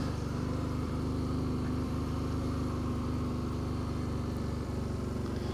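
A steady quad bike engine drone runs throughout, loud and close, holding a constant idle-like rumble with no pauses.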